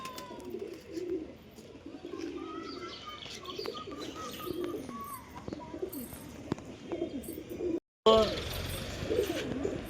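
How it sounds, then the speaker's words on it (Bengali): Domestic house pigeons coo on and off, low rolling coos mixed with chirps at close range, broken by a sudden cut near the end before the cooing resumes louder. "সব কবুতর দেখিয়ে দিলাম তোমাদের"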